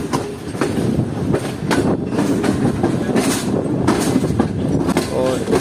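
Karakoram Express train at the Rohri Junction platform, its wagons rolling with a steady clickety-clack and rumbling wheels, loud and close throughout with no talk.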